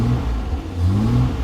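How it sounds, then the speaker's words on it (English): A classic car's straight-six engine, a commercial-vehicle unit fitted with competition parts and a competition side exhaust, runs with a steady, loud, deep drone that swells slightly as it revs. "you can hear that fantastic straight six engine"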